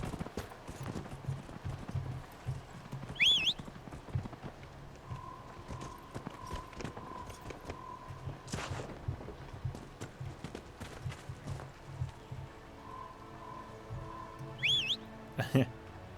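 Horse hooves clip-clop at a walking pace in the video game Dragon Age: Inquisition, with soft tonal game sounds and brief chirps mixed in, fairly quiet overall.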